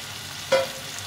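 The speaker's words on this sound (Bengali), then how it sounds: "এখন এই ফুলকপিটা দিয়ে দেবো" Cauliflower goes into a pan of spice paste fried in oil, making a soft sizzle with one brief stirring scrape and no talk.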